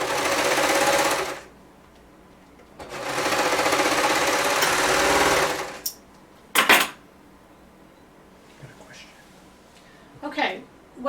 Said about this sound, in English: now once the cut's done, you can stitch the edge